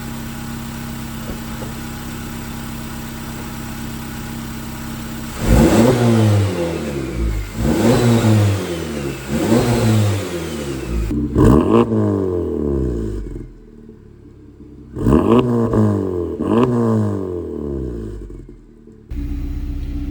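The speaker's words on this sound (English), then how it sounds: "I'm gonna show you guys how the car sounds for right now" A loud modified 600-horsepower Honda Civic Type R engine revs repeatedly in sharp bursts, each rising and falling back to a rough idle, with a short gap before another pair of revs.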